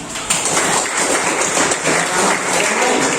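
A room full of people clapping, a dense, steady burst of applause lasting a few seconds.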